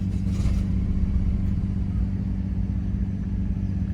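A Nissan R34 Skyline GT-R idles just after starting up, giving a steady low rumbling engine drone that stays constant and fairly close, with no speech over it.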